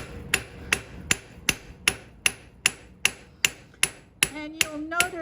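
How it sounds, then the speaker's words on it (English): Metal ends being hammered while forging: a steady series of about thirteen sharp, ringing hammer strikes, evenly spaced and close, with the last few blows leaving a brief metallic ring. "I'm going to start by hammering these ends."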